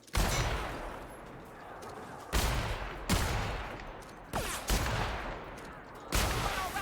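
Sniper rifle shots ring out in The Outer Worlds, five or six sharp loud cracks spaced a second or so apart, each trailing into a decaying echo.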